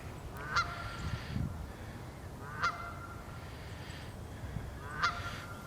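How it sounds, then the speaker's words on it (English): Geese honk three times at steady intervals, loud and fairly close, over a low rumbling outdoor background. "Maybe the geese are upset that I'm out here filming."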